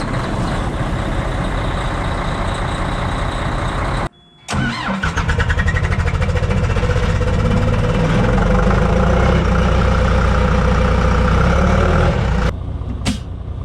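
A 20-ton excavator's diesel engine cold-starts in snow: a brief cranking whir and a short pause, then the engine catches and settles into a loud, rumbling, steady idle before cutting off near the end.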